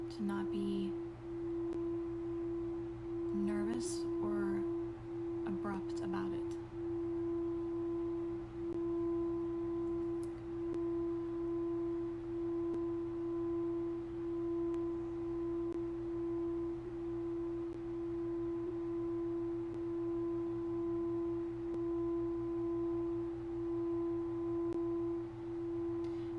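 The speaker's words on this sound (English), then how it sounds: "The singing bowl sound you hear right now" A singing bowl rings in a quiet meditation, one steady sustained tone that hums on for the whole stretch with a soft beating shimmer, with brief faint talk near the start.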